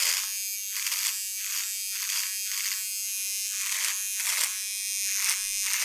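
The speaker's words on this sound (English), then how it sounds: "I did say I was shaving my face for a reason" Electric razor shaving a man's face, a close, steady buzzing hum that swells and dips in rhythmic passes as the head moves across the skin, with no speech.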